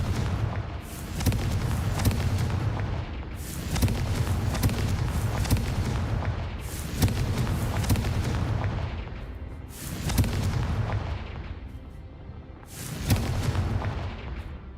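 Confringo fire spell explosions in the video game Hogwarts Legacy: five loud booming blasts roughly three seconds apart, each with a sharp burst and a rumbling tail.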